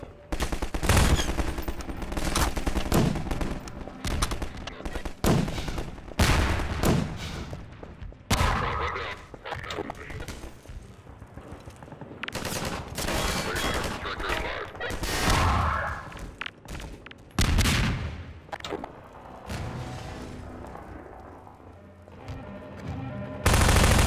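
Dense, sustained gunfire from the Half-Life 2 battle against Striders, with rapid bursts, heavy booms and constant loud chatter of weapons continuing throughout.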